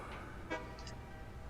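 A vehicle horn in Satisfactory gives one short, mid-loud honk against steady game background noise, followed by a faint second tone.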